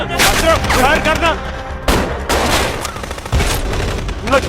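Dense, overlapping gunfire from a war movie scene set in Kashmir, with rapid bursts and heavy booms layered under shouting voices, loud and continuous for the whole stretch.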